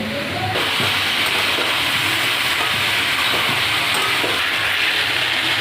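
Bottle gourd with salt and turmeric being stirred and sautéed in a hot pan, a loud steady sizzle throughout with repeated scraping strokes of a spoon, close up and without talk.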